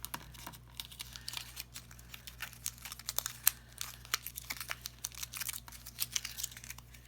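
Paper is crumpled and crushed by hand to shape a craft flower, giving close, irregular crackles and crinkles in quick bursts over a low steady hum.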